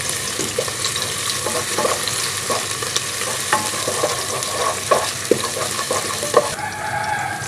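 Onion frying in hot oil for a beef tarka daal, a steady dense sizzle with occasional stirring clinks and scrapes in the pan, heard close and without talking.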